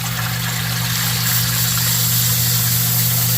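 A 3/4 horsepower sump pump for draining a yard's standing water runs with a steady droning motor hum and rushing water over it, loud and close, unbroken for the whole stretch.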